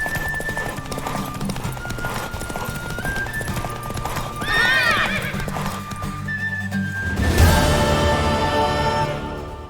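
Busy rhythmic hoofbeats of a galloping horse in The Witcher 3 video game, with a whinny partway through, loud and continuous over a layered backdrop of game music and effects.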